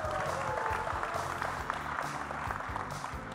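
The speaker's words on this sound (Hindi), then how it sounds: "जोरदार तालियां हो जाएं" An audience at a film trailer launch in Mumbai applauds a director, a continuous dense clatter of many hands with a low murmur of the crowd beneath.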